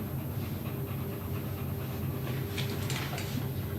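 A dog pants steadily and softly at a grooming session, a faint rapid breathing rhythm under a constant background hiss.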